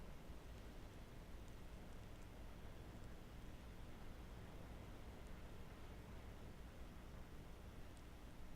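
Steady soft rain falls outside, a continuous even hiss with faint scattered drop ticks and no voices, holding level throughout.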